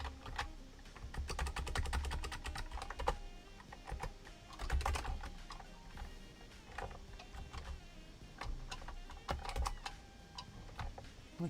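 Steady typing on a computer keyboard during a live Perl programming session, with irregular bursts of close, crisp key clicks and occasional heavier keystrokes running continuously with no talking.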